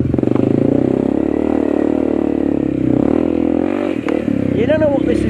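Honda CRF301 motorcycle ridden on sand near the Pai river, its engine droning steadily and loud close up, pitch wavering as the rider works the throttle, with someone talking over it throughout.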